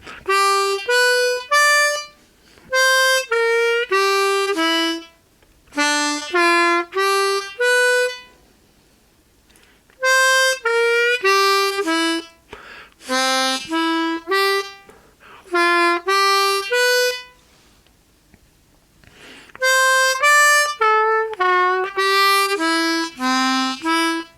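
A harmonica plays slow phrases of single notes stepping up and down, with short pauses between groups, loud and close.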